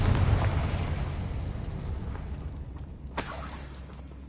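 A Confringo blasting spell explodes in Hogwarts Legacy: a loud burst at the start that rumbles and fades out slowly, then a sharp crackling pop near the end, with no voices.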